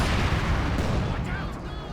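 T-34 tanks fire in a Company of Heroes 2 battle, heavy booming cannon blasts rumbling one after another amid dense combat noise, loud and close, with a few sharper reports layered in.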